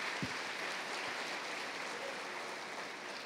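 A church congregation applauds during a sermon, a soft, even patter of many hands clapping heard from some distance, steady throughout with little else over it.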